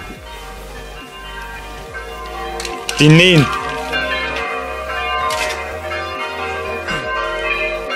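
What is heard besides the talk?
church bell ringing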